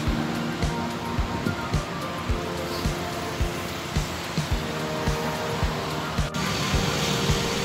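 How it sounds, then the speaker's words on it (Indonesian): The Ciliwung river flows through Bogor Botanical Garden with a steady, broad rush of water, and regular footsteps thud close by as someone walks along the bank. "ini Sungai Ciliwung yang membelah Kebun Raya Bogor ini"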